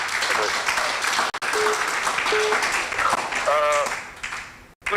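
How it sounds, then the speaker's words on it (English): An audience claps in a live outside broadcast, a busy patter of applause running beneath a speaking voice and crowd noise. "More clap for Ambassador Chukwudi."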